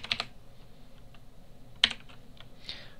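Light, sparse keystrokes on a computer keyboard while coding in C#, a few soft taps with one sharper clack midway, close and quiet without talk.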